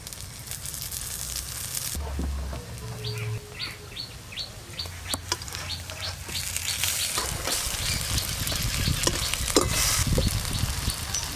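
Kulekhara leaf fritters frying in mustard oil, an uneven sizzle and crackle building louder toward the end, with birds chirping repeatedly in the background and a few clinks.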